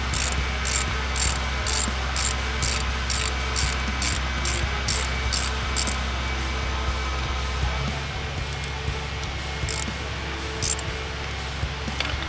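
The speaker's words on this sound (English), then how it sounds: "Remove the 2 bolts holding the packing nut keeper." A ratchet clicks in quick, steady strokes over a constant low machine hum while two bolts holding the packing nut keeper are removed on a Geoprobe DM450 swivel; the clicking is close and repeats rhythmically, then pauses.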